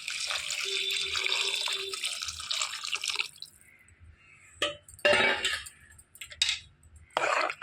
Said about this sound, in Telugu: రెడీ చేసి పెట్టుకున్న పులుసు ఉంది కండి, పులుసు పోసేసుకోవాలి